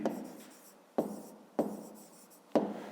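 A pen writes on paper during a fifth-grade maths exercise, with soft continuous scratching punctuated by four sharp taps as the pen strikes or lifts from the page, close and quiet.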